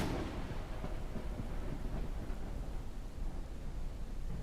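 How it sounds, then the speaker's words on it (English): Heavy thunderstorm in the video game Forever Skies, with a continuous loud rumble of thunder and rain-like wash filling the whole stretch and no talking over it. "in these headphones, that thunder is a tad on the, Jesus, scary side"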